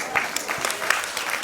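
Audience at a cultural programme clapping to welcome the director onto the stage, a dense burst of many hands close by, steady and lively throughout.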